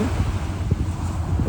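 Wind and sea surf at San Felipe beach in Zambales, a steady broadband rush with low rumbling wash, fairly loud and continuous with no voices.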